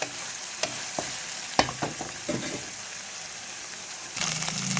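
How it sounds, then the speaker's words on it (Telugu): Ginger garlic paste frying in oil, a close crackling sizzle punctuated by sharp spatula taps and scrapes, swelling into a louder, denser sizzle near the end. "అల్లం వెల్లుల్లి పేస్ట్ ఆయిల్ ఫ్రై అవనిద్దాం. చక్కగా ఫ్రై అవ్వాలి."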